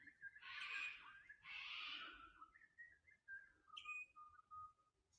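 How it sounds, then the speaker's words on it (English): A currawong gives a series of clear, fluting whistled calls, some rising and falling, heard fairly close against a quiet background at Echo Point, Katoomba. "Now, I don't know what that bird was that we just heard, but I love the call."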